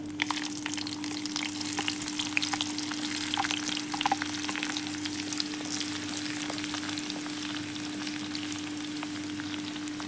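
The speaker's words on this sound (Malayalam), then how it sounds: "ഇനി ഇതിലേക്ക് ഒരു നാലഞ്ച് ചെറിയ ഉള്ളി അരിഞ്ഞത് ചേർത്ത് കൊടുക്കാം" Chopped shallots frying in oil with popped mustard seeds produce a continuous close sizzle with faint crackles, steady and even throughout, with no voices.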